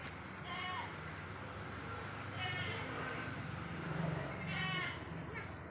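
Young goats about six months old, at a livestock sale, bleating three times in short wavering calls spaced a couple of seconds apart over a quiet background.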